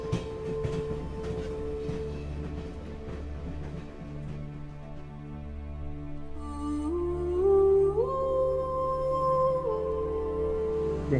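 A train arriving at a station, a steady rumbling roll with metallic rail noise and a rising, sliding squeal of brakes as it slows, moderately loud.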